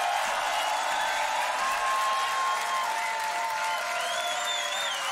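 An audience applauds steadily at the Grand Beatbox Battle 2019 tag team final, a dense, fairly distant roll of clapping with some crowd cheering and faint voices mixed in.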